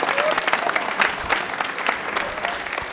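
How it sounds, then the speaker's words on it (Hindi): An audience claps warmly for quiz show contestant Rahul, a brisk burst of applause from a studio crowd with rapid overlapping claps that stays lively for the whole moment. "तालियां एक बार जोरदार हो जाए राहुल के लिए"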